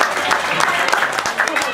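Applause from a gathered audience at a community dzikir manaqib for the neighbourhood RT head, a brief burst of clapping under background chatter.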